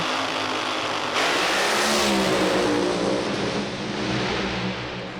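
A loud alcohol-fuelled drag racing car engine roars and revs continuously at the start line, its pitch climbing and surging close by with no voices present.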